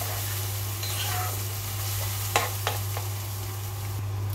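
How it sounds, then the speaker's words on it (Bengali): A light sizzle fills a pan for rohu fish curry with vegetables, with a few sharp utensil clicks and scrapes partway through; no distinct pour stands out and no one speaks. "একটু গরম জল দিয়ে দিচ্ছি।"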